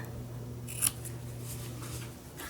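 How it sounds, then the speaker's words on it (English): Scissors trim fabric for a sewing roll in a few close, soft snips within a couple of seconds over a faint steady hum, no talking. "I will trim these"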